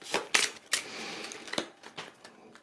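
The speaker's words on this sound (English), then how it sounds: "These other cards will also get a quick shuffle." Sanctuary game cards are shuffled quickly on a tabletop, making a few sharp riffling snaps and soft papery rustles close to the microphone, with no talking.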